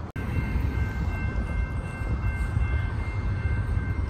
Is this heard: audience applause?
no